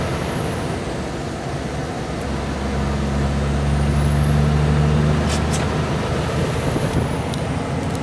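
Kenworth 509 truck from a haulage fleet driving, heard from the cab as a steady loud engine drone with road noise, a sustained low tone rising midway and faint whining overtones.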